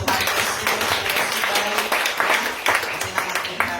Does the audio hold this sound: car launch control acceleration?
no